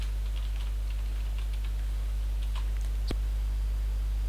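Light keystrokes tap out in a quick, irregular patter on a computer keyboard while Java code is typed, faint over a steady low electrical hum.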